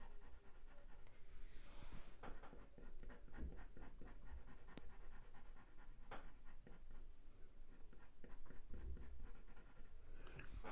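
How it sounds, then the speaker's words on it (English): Pencil marks are rubbed out on paper with quick, scratchy back-and-forth strokes in uneven bursts, close and fairly quiet, over a faint background hiss. "Just get rid of some pencil marks actually."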